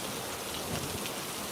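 Steady rain falls in a dense, even hiss, close and continuous, with a faint low rumble underneath.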